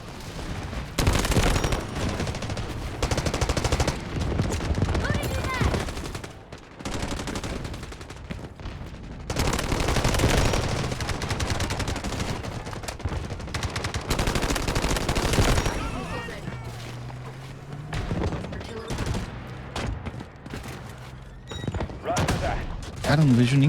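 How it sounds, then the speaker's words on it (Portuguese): Heavy gunfire in the online shooter Delta Force, played on mobile: dense rapid bursts and volleys crackle almost nonstop, loud and close, with short lulls and a vehicle-like drone near the end, under occasional talk. "eu tô escutando muito tiro aqui"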